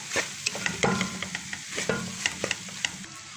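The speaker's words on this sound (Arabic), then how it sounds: "انزل عليها بقى بالبصله اللي انا حمرتها كده، واسيبها تشوح بعضها مع بعضها" Liver and gizzards stir frying with fried onion, a close crackling sizzle punctuated by frequent sharp scrapes and clacks of the spoon against the pan; no talking.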